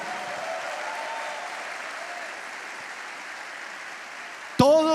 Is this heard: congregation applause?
yes